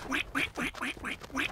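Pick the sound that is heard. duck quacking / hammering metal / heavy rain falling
duck quacking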